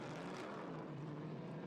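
A propeller aircraft drones steadily at the active Mirabel airfield in Quebec beside the ICAR race circuit, a faint, continuous engine hum heard at a distance without any voices.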